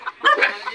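A chicken near a rice paddy gives a short, close cluck, a quick burst of a couple of throaty notes lasting under a second.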